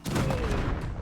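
A turret opens fire in the video game Wasteland 3, one loud, dense burst of gunfire lasting about a second with a rumbling tail, heard close and without talk.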